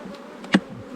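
Angered honey bees buzz around a farm hive at a winery, a faint, thin drone with one sharp, nearby buzz as a bee passes close.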